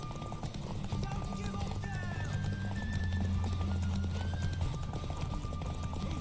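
Steady clip-clop of galloping hooves with a horse whinnying, under a continuous bed of The Witcher 3: Wild Hunt game ambience and occasional voices.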